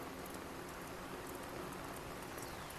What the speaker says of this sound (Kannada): ಇವಾಗ ಸಖತ್ತಾಗಿ ಮಳೆ ಬರ್ತಾ ಇದೆ ಫ್ರೆಂಡ್ಸ್